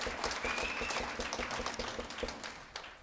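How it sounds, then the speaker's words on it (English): Audience applause at a monthly live radio show, steady clapping with scattered sharp claps that fills the whole stretch and fades a little toward the end, fairly faint and heard alone with no talk over it. "Give yourselves a big round of applause."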